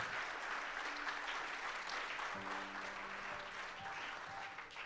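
A church congregation gives a short round of applause during a Spanish-language evangelical service in London, steady clapping at moderate level with a few indistinct voices mixed in.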